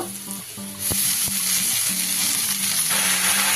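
Washed radish greens drop into a pan of frying onion, garlic and chili, and the sizzle swells into a loud, close, steady hiss after a few sharp knocks.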